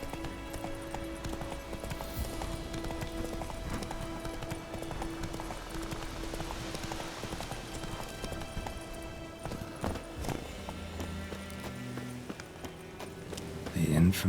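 Galloping horse in The Witcher 3 video game, with rapid rhythmic hoofbeats over ambient game sound and music, plus a brief whinny near the end, while a voice speaks over it.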